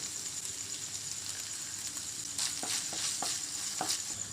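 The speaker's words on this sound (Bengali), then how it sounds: "খুব ভালো করে কষিয়ে নেব মশলাটাকে মাংসের সঙ্গে" Meat fries in a pan with ginger garlic paste and spices, a steady bright sizzle with several sharp spatula scrapes and clacks as it is stirred, close and with no talking.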